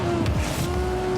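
Rocket-powered cars in the video game Rocket League drive with a sustained engine drone and a brief tire-skid whoosh, loud and constant with no voices.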